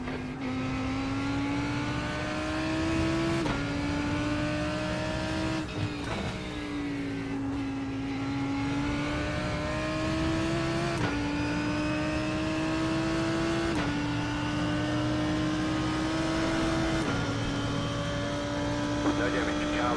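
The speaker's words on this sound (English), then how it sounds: "There's a faster car approaching." A GT3 race car engine in the iRacing sim racing game drones steadily and loudly for the whole stretch, its pitch climbing through gears and dropping at several shifts, with talk from the driver and team over the top.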